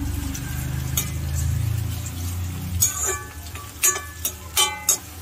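Onion, garlic and curry leaves sautéing in a pan for a brinjal tamarind gravy, a low sizzle under several clinking stirs of a spoon against the pan, with no one talking.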